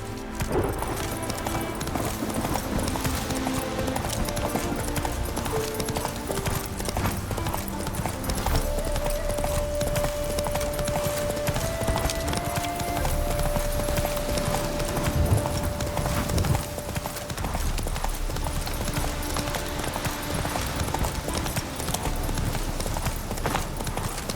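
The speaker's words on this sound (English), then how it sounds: "Run, Roach" Hooves of a galloping horse in The Witcher video game pound in a steady, fast clip-clop rhythm, loud and close, running continuously over game music and ambience.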